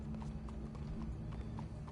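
Horse hooves clip-clopping in Red Dead Redemption 2, a steady rhythmic series of hoof beats at a moderate pace, fairly faint and without talk.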